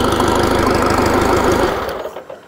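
A 1939 Indian 439 motorcycle engine running, a rapid even thumping beat close and loud, fading out toward the end.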